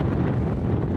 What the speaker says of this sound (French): la végétation secouée par la violence du vent